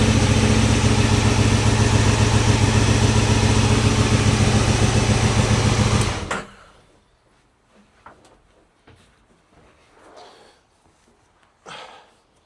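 A motorcycle engine idles loudly and steadily nearby as the bike is loaded into a converted horse trailer, then cuts off abruptly, leaving faint knocks and shuffling.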